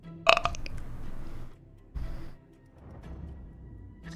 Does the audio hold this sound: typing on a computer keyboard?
no